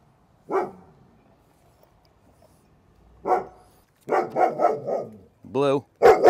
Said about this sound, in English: Be a good dog.